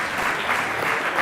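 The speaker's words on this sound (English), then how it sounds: "Big applause for Dave McClure." A conference audience on an arena stage gives steady, sustained applause for a speaker, a dense wash of many hands clapping at once, with no talk over it.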